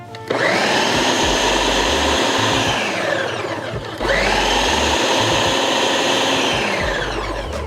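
Blender pureeing a thick jerk chicken marinade in two loud whirring bursts, each spinning up, droning for a few seconds and winding down, with a short pause between and no talk.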